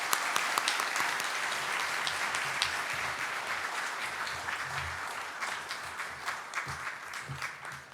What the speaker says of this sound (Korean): 하나님께는 영광의 박수요, 또 목사님께는 사랑과 격려의 박수로 맞이하시겠습니다.